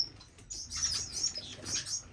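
Owl finches in an indoor bird room, a few soft high chirps and twitters coming in short bursts, faint and fairly close, with a low background hum and no talking.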